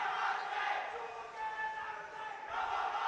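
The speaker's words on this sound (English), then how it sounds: "The crowd's getting frenzy on the arena here." A crowd cheers and roars loudly at an ABU Robocon 2025 India semi-final arena, the noise swelling, dipping briefly, then surging again.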